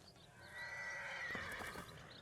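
A sick horse in Ghost of Tsushima gives one strained, wavering whinny of moderate loudness, with soft hoof clatter beneath and no talk.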